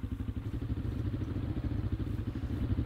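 A dirt bike engine from the Minecraft Dirtbike Mod, a steady low rumble with fast, even pulses and a slight clatter, close and continuous with no voice.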